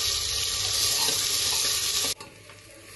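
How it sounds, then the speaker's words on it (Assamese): Onions sizzle loudly in hot oil as they are stirred and fried until brown for a mutton curry; the crackling hiss runs steadily for about two seconds, then drops away abruptly to a quieter background. "পিয়াজটা একদম ব্রাউন কালার ভাজি লৈছো"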